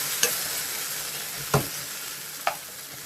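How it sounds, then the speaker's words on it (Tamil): Tomatoes and onions sauté in oil in a pan for a mushroom pepper masala, a continuous hissing fry broken by three sharp spoon knocks against the pan, close and without talk. "அந்த தக்காளியை நல்லா வதக்கி விட்டுக்கலாம்"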